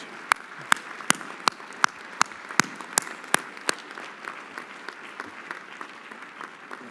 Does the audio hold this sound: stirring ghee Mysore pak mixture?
no